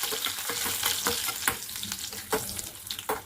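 Cashews fry in a pan for carrot payasam, giving a close, busy sizzle broken by sharp scraping stir strokes and clicks.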